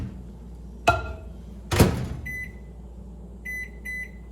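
A microwave oven melting vegan dark and white chocolate gives a door thunk, another clunk, then a run of electronic beeps in two short groups, fairly close and without talk.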